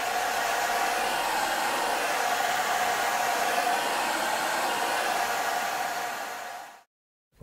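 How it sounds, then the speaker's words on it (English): A hair dryer blows in a steady, loud whooshing hum for several seconds, then cuts off abruptly into silence. "one way is to use a simple hairdryer"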